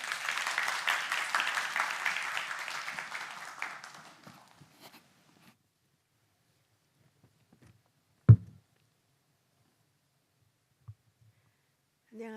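A church congregation at a Sunday service applauds to welcome a deacon forward to give a testimony. The applause is full and sustained, then tapers off over about four seconds into near silence, broken by a single sharp knock and a couple of faint taps.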